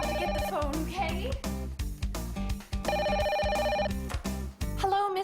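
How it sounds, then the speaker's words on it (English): An old-style telephone bell rings in repeated bursts at a small diner, loud and close, with brief gaps between rings and a voice speaking around it. "I just have to get the phone, okay?"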